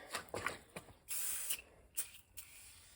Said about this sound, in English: So let's go ahead and spray this on.